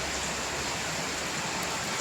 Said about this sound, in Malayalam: താഴെ എത്തിയതും വീണ്ടും നല്ല മഴ